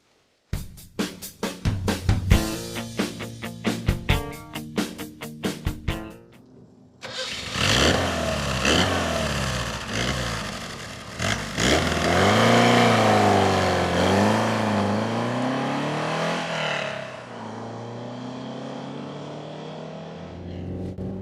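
A Lotus Europa sports car comes through with a rapid train of mechanical clicks at first, then a close, loud engine that revs up and down repeatedly through the gears before fading slightly at the end.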